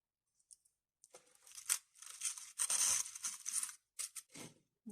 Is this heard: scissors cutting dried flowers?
yes